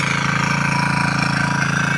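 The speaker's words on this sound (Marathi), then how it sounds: "आणि बघा ट्रॅक्टर चालू हा भावच्या वाप्यात" A tractor engine runs steadily nearby in a Konkan rice field at sowing time, a loud even chugging throb with no voices.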